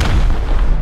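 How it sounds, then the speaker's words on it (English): Grenade explosions in the video game Rust form a loud, continuous booming rumble that fills the short burst, heavy in low end with no talking. "He's tossing grenades."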